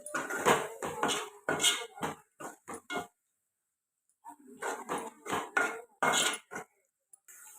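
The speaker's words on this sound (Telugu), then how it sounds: "ఇది బాగా కలుపుకొని ఒక నిమిషం పాటు ఫ్రై చేసుకుందాం" Egg curry mixture seasoned with garam masala is stirred in a frying pan, a metal spoon clattering and scraping in quick irregular bursts, close and fairly loud, with a pause of about a second midway before the scraping resumes.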